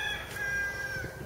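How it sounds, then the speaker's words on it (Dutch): A rooster crows on a farm, one sustained cock-a-doodle-doo heard fairly clearly at moderate distance, with a brief faint rustle at the end and no talk. "Dat is een haan."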